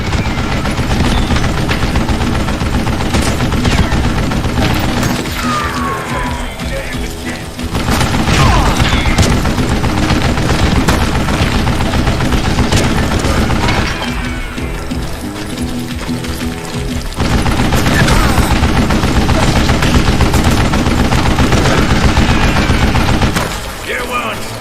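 Machine gun fire in Call of Juarez: Gunslinger, loud sustained bursts of rapid automatic shots in long stretches with brief pauses, mixed with game effects.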